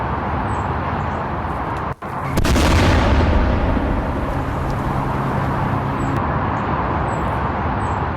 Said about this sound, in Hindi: बम लगातार इस वक्त बैरूत पर बरस रहे हैं